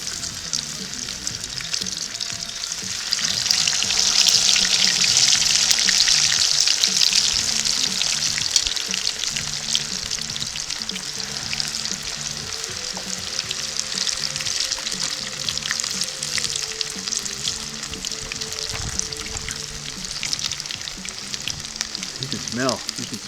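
Catfish in a cornmeal and parmesan coating fries in a pan, a steady close sizzle and crackle running the whole time, swelling louder for a few seconds early on.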